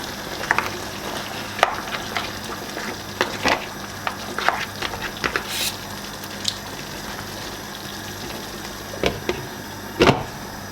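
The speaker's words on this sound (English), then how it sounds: "I want it to fry and cook a little bit" Efo riro, a Nigerian vegetable soup, frying and cooking in a pot with a little added water: a steady sizzling hiss throughout, with scattered louder clinks and stirring knocks close by.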